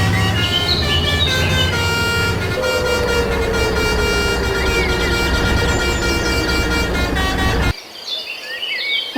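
A toy bus plays a telolet horn as a loud, continuous melodic tooting with layered tones and bird-like chirps, then cuts off abruptly near the end, leaving faint chirping.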